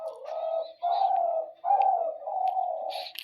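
Pet pigeons coo at dawn in a series of four close, clear, low rolling coos with brief pauses between them and faint chirps on top.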